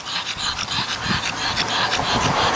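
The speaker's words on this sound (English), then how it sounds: "What kind of dog is it? French Bulldog." A French Bulldog pants quickly and steadily up close, a continuous rhythmic huffing with faint whimpering and no talk over it.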